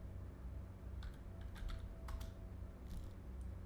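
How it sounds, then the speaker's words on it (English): A few faint, soft keystrokes on a computer keyboard typing a short command, heard over a steady low hum of background noise. "you need to type exit."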